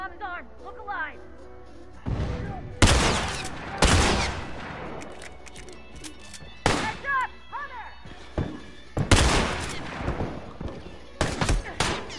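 Gunfire in The Last of Us multiplayer, with loud bursts of rapid shots in clusters, separated by quieter stretches in which players talk.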